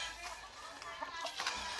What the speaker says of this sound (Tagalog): nilagay ko na sa maluwag na kulungan nila yung mga manok